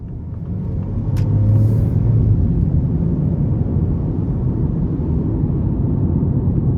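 A 2025 Ford Bronco Sport Big Bend with a 1.5-litre turbo three-cylinder accelerates hard in sport mode, heard from inside the cabin as a loud, steady low engine rumble that swells and holds.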